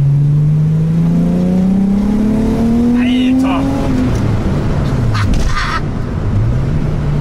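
A car with a VR6 engine accelerating hard, its revs climbing steadily and then dropping and rising again. The engine drone is loud and continuous from start to finish.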